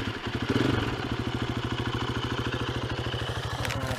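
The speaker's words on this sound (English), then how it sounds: "And then you fire up the bike and let her idle." Motorcycle engine idling nearby on a trail, a fast, even, loud putter of firing pulses with a brief rev at the start, no talk over it.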